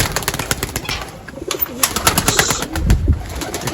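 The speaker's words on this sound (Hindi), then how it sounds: "अब कबूतर निकाल लेते हैं बाहर।" Pigeons coo and stir close by while being taken out of a coop, with soft repeated cooing and rustling flutters throughout, plus a brief louder burst of movement near the end.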